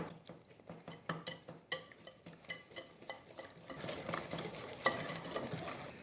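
Three large eggs being whisked in a bowl make a quick run of rhythmic clicking taps, then a denser, faster swishing patter that keeps on, close and fairly quiet.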